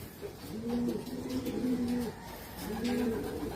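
Young pigeons cooing in a loft, soft repeated throaty coos in two or three phrases, close by over a faint room background.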